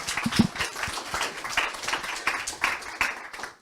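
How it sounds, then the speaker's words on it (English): Scattered applause at an evening session of a sanitation meeting in Stockholm, with uneven, fairly sparse claps from a small audience that rise and dip without settling into a steady roar. "Another round of applause,"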